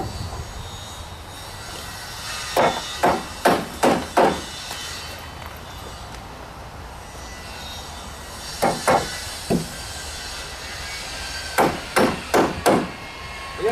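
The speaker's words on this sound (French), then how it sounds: "éventuellement là, je mets un clou, voilà, un clou" Hammer blows drive nails into timber formwork for a precast beam, coming in three close bursts of four to five sharp, ringing strikes, with steady background hum between them and no talk.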